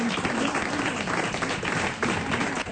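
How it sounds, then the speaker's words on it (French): A television talk-show studio audience applauds, dense and continuous clapping at close range that swells briefly before easing. "On vous remercie, on vous applaudit."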